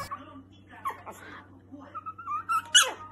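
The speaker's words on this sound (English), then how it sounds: "How does it feel to hear a dog's voice in the mic?" A small Chihuahua whimpers and squeaks in short high-pitched whines, close and fairly quiet, with a low steady hum beneath.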